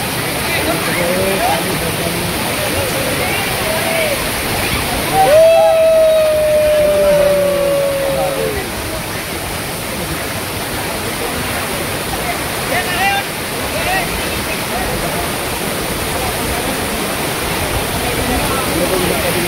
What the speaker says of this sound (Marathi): शेवटचा वडा आहे, मोठा वडा आहे.